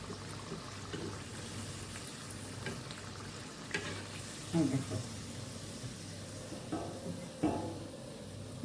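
Nimki dough pieces fry in white oil, giving a steady close sizzle throughout with a few brief louder spatters and clatters.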